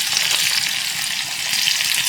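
Spices, sliced garlic, ginger, onion and dried red chillies fry in hot ghee for a khichdi tadka, a dense, steady crackling sizzle, close and continuous throughout.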